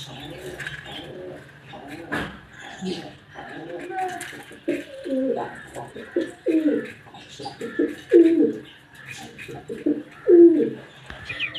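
Newly arrived Aseel chicken chicks at a backyard bird setup, chirping and peeping in quick repeated bursts close by, with a pigeon-like cooing mixed in and a person talking throughout.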